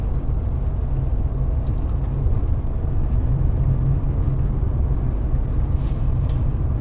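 Steady, loud road rumble from inside a car merging onto the autobahn, with a continuous low engine and tyre drone and no voices.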